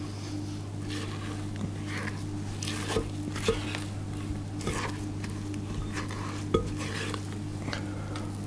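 A spatula scrapes cake batter down the sides of a mixing bowl, producing soft, irregular scraping and stirring strokes with occasional light clicks against the bowl over a low steady hum, close and faint, with no talk.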